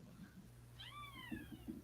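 A single drawn-out cat meow rises and falls, fairly faint and close, over a low steady hum with a few soft thumps afterward.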